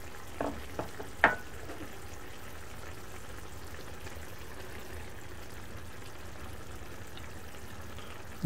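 Eggs laid into a Tunisian merguez ojja, a tomato and sausage sauce, simmering in a pan with a low continuous bubbling sizzle, a few brief clinks near the start, quiet and close with no voices.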